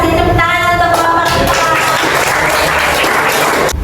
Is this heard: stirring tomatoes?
no